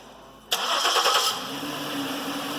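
A Ford Edge engine cranks and catches abruptly, then settles into a steady idle, heard up close with no talking.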